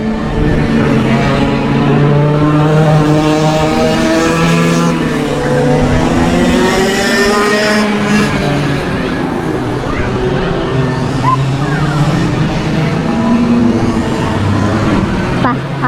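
Several go-karts run laps at a go-kart track, their engines droning and rising and falling continuously at close to mid range, with speech mixed in over the steady motor noise.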